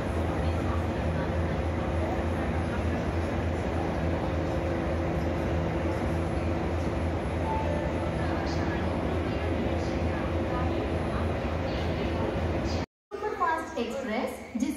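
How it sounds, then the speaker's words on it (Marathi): A superfast express train pulls in at a railway station platform in the early morning: a steady, loud mechanical rumble with a low engine hum runs continuously, then cuts out briefly before station noise and faint voices return. "आपली ट्रेन प्लॅटफॉर्मवर आलेली आहे"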